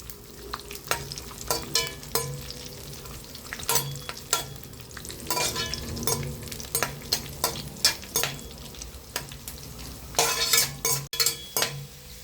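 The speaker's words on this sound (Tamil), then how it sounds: "அனலை ஸ்லோவாக்கின்னு வறுக்கணும்." Rava semolina roasting in a pan for laddu, stirred continuously: repeated scraping and clinking strokes of a spoon against the pan over a soft dry sizzle, close and steady with no talk.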